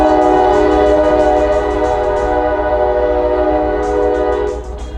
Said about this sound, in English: It's loud because we back right up to the railroad.